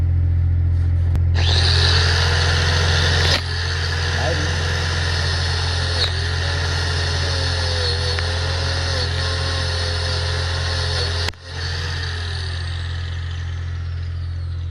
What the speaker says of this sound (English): get the angle grinder and we're going to grind this till it's sort of shiny-ish